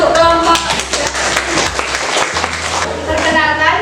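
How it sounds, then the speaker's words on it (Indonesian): A school class claps for a student group, a short burst of close hand clapping mixed with voices and a faint tone that rises near the end. "Tepuk tangan untuk kelompok."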